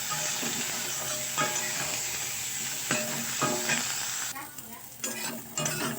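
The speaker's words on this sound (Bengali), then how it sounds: "বেগুনগুলোকে আমি একটু লাল লাল করে ভেজে নেব" Eggplant pieces seasoned with salt and turmeric fry in hot oil, giving a steady close sizzle with repeated stirring scrapes, then a quieter stretch broken by short bursts of crackle.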